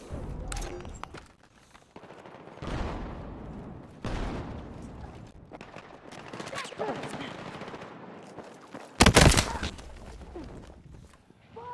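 Video game gunfire crackles in quick automatic bursts and single shots, with quieter stretches between and one loud, close burst near the end.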